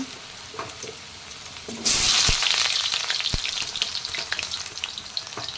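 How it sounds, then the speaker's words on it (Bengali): Potato pieces hit hot oil partway through and set off a loud, sustained sizzle with a few clinks of stirring, after a quieter stretch of oil heating in a pan. "তেলটা গরম হয়ে গেছে এখন আলুগুলো দিয়ে দেব"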